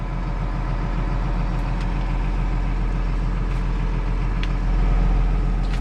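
A New Holland TR6.150 six-cylinder tractor engine idles steadily after warming up, a constant low diesel rumble held at close range with no talk over it.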